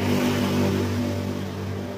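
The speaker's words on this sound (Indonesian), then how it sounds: "Mesin enak, jreng, knalpot juga original." A 1995 Yamaha Alfa motorcycle with its original exhaust runs close by, a steady engine drone with a slight rise and fall in pitch, with no talk over it.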